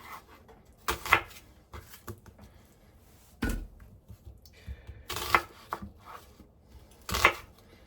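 A knife cuts two garlic cloves in half on a board while ingredients for a slow-cooker pot roast are prepared: several sharp, separate chopping knocks spread across a few seconds, close and clear, with no talk.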